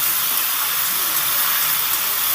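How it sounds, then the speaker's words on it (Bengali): Okra and ivy gourd frying in a pan, a continuous even hiss of sizzling oil that stays steady throughout, with no voices. "ভাজাটা এবার নেড়ে চেড়ে আমি সুন্দর করে একটু লাল লাল করে ভেজে নেব"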